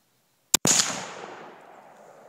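A single sharp shot from a Finnish M27 Mosin Nagant rifle, close and loud, with a short lead-in snap and a long fading outdoor echo trailing off into quiet.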